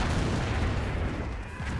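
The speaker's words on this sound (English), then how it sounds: "Another Calliope Rocket Barrage getting some good AoE damage." A Calliope rocket barrage in the strategy game Company of Heroes rumbles as a dense, continuous roar of overlapping blasts, loud and sustained throughout with no pauses.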